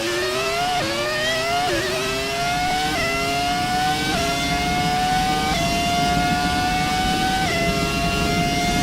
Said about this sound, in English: Now we can go back to enjoying the roaring sound of this V10 engine